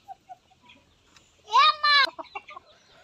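Village chickens kept as backyard poultry call out in a short burst of loud, harmonic clucking, followed by a few softer clucks and faint bird calls in an otherwise quiet morning setting.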